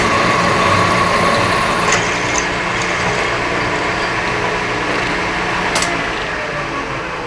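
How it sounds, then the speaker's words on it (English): A power drill whirs steadily while boring bolt holes through a metal plate in a workshop, a loud, even machine drone with brief clicks and a faint high whine near the start. "it'd be a lot easier to drill all the bolt holes."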